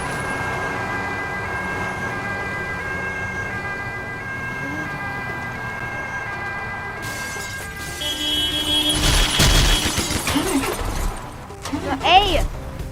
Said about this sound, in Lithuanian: Atvažiavo gaisrinė.